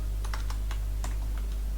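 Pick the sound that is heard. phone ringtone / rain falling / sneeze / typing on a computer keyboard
typing on a computer keyboard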